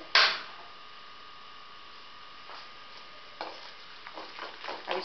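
Suji handvo batter with Eno being whisked in a bowl, a sharp initial clink then quiet, followed by a run of soft, irregular stirring and tapping strokes growing busier toward the end, close by with no talk.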